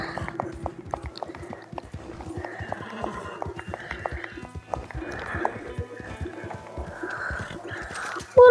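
Horse hooves clatter in a quick, steady galloping rhythm across rough off-road ground, with occasional whinnies and snorts, loud and close.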